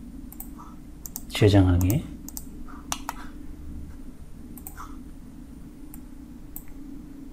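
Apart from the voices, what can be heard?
mouse clicking in Inventor CAD software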